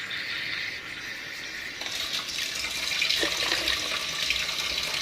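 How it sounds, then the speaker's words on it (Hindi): Tap water pouring into cream being churned for homemade desi ghee, a steady close gushing stream that grows fuller partway through. "नॉर्मल टूटी का पानी डाल रही हूँ।"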